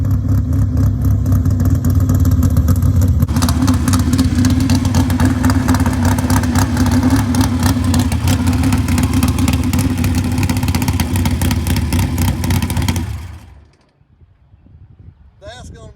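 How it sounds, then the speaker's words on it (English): A 1975 Bob Trossel Super Modified race car roars around a small go-kart track, its engine loud and steady at close range for about thirteen seconds before cutting off abruptly and leaving quiet. "Getting to take the 1975 Bob Trossel Super Modified around my little go-kart track."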